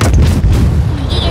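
Heavy naval guns from a Katori-class ship in World of Warships rumble in a loud, deep, sustained boom that rolls through the whole moment, with a faint high whine near the end.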